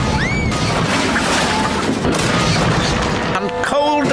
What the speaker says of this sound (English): Crash, bang, wallop went